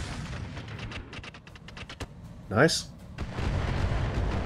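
Weapon fire in the modded BattleTech video game Roguetech: a single sharp, loud burst of mech gunfire at mid distance after a sequence of rapid clicks, followed by a rumbling tail, with a brief spoken remark.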